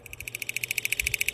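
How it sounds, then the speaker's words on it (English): Cartoonish teeth-chattering sound effect for a cold little creature in a children's storybook read-along: a rapid, steady run of about twenty bright clicks, close and clear, with no voices. "I think that's the sound of teeth chattering when little friends get cold"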